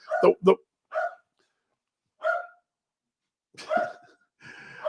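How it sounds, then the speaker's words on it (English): A pet dog barks at home during a live worldwide baseball talk broadcast: a few sharp close barks in quick pairs, then scattered single yelps and whines with long silent gaps between them. "you never know when the dog's going to erupt"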